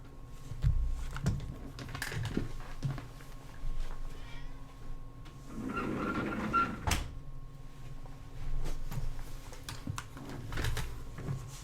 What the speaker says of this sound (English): Cat scratching at door now.